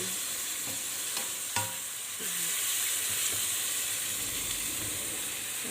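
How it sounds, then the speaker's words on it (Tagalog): Dinuguan, a pork blood stew, cooks in a pan with a constant close sizzle and hiss, broken by a few sharp clinks and stirring scrapes. "Medyo lutuin muna natin ng konti."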